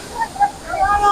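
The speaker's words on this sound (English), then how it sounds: "You can listen to the sounds of the waterfall" A waterfall in Karura forest gives a steady rushing wash of water, heard up close for only a moment.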